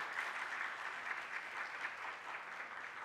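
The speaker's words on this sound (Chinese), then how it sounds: "好，我们再一次的拍手来欢迎这个家庭哈。" A church congregation claps together to welcome a family at a Christmas Eve service, a dense, even wash of applause from many hands. It holds steady for the whole stretch and sounds moderately distant, with no talking over it.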